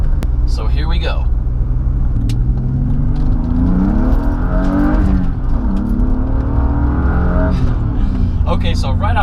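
A car driving on twisty roads after a steering modification: a loud, steady engine drone with rising and falling revs and a constant road rumble underneath, heard from inside while someone talks over it.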